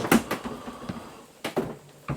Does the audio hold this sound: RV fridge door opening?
yes